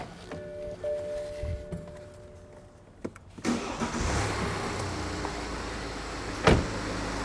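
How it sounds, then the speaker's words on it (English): A car engine cranks and catches in a workshop during a noise and vibration diagnostic test, a short starter whirr followed by a steady, close idle with a brief rev blip near the end. "we need to start the vehicle."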